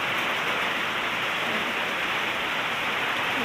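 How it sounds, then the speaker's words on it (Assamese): Steady heavy rain pours down after a long hot spell, a dense, even hiss of drops on surfaces that holds constant throughout with no voices. "চাওকচোন কেনেকৈ বৰষুণ পৰি আছে।"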